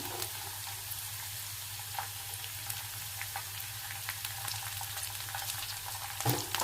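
Peanuts and green peas frying in a pan for oats upma give a steady low sizzle with light scattered clicks of stirring, growing a little louder at the very end.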